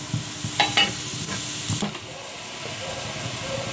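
Whole spices, cinnamon, bay leaf, star anise, cardamom, cloves and fennel, fry in oil for biryani, a close bright sizzle with a brief burst of crackling pops near the start, then a steadier hiss.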